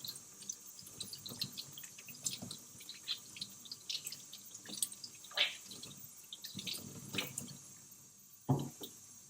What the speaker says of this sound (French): il faut la passer sous l'eau et il faut la laver